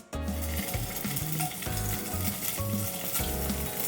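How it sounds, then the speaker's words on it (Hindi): Paneer cubes shallow frying in ghee in a hot pan, making a dense, continuous close sizzle that holds steady throughout with no talking. "हल्का सा हमें शैलो फ्राई करना है इन पनीर को"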